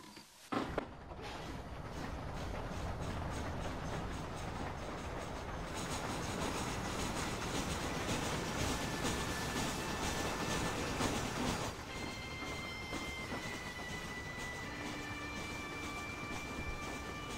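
Steady clickety-clack of a train rolling along rails in Red Dead Redemption, a continuous rumbling ride with rhythmic wheel beats and occasional faint squealing tones, heard alone without talk.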